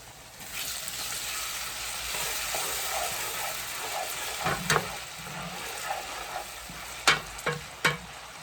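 Blended habanero and onions fry in a pot for a palm oil stew, giving a broad, even hiss. Toward the end a few sharp knocks of stirring cut through.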